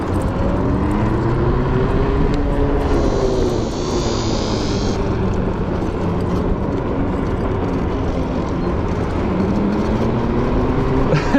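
A Segway prototype electric scooter accelerates in race mode at CES 2024, with a loud continuous whine rising and falling in pitch over heavy wind rush, close to the rider.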